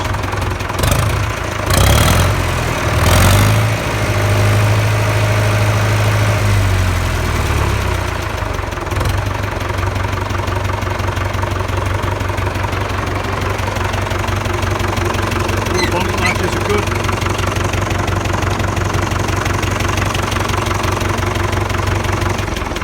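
A diesel Fordson Major tractor catches with a few loud coughing turns, briefly revs, then settles into a steady low ticking-over idle with a faint knock, heard close and alone.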